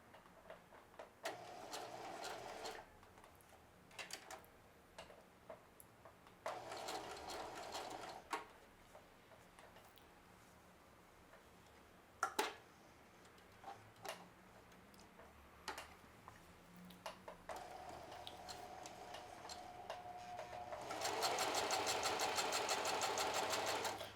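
A sewing machine stitches a jeans pocket in short bursts, running forward a few stitches then back-stitching to lock the seam, with quiet pauses between runs and a longer, louder run at the end.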